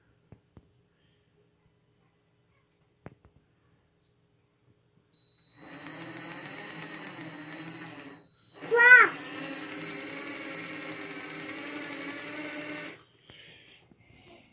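A GM 4-pin HEI ignition module fires off a Chrysler single-pickup distributor, giving a steady buzzing spark crackle for several seconds with a brief louder burst partway through, then cutting off abruptly.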